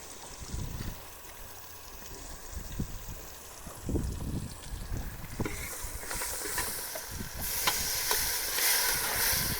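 Tempering spices, including turmeric and chili, hiss and sizzle in hot oil in a cooking pot. The sizzle stays steady and close, then grows brighter and louder toward the end.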